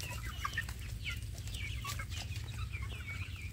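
Native village chicks and chickens cluck and cheep continuously, with many overlapping calls at close to moderate distance over a low background rumble and no talking.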